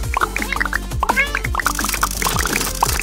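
A cat meows briefly in an animated children's show, heard over a busy backdrop of bright musical tinkles and bubbly, liquid-like effects.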